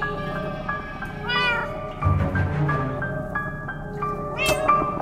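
A cat in the Minecraft: Story Mode video game meows over a game soundtrack, with several drawn-out, wavering cries and a sharper yowl near the end.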